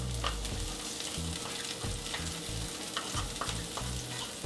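Leftover garlic and sliced onions frying in a pan for a loco moco sauce, a close, steady crackling sizzle with stirring scrapes and a low hum underneath.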